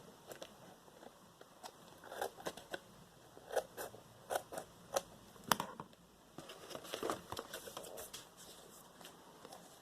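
Scissors snip around the edge of a paper Christmas decoration for a journal or card, a string of close, crisp cuts coming in uneven bursts with short pauses between them.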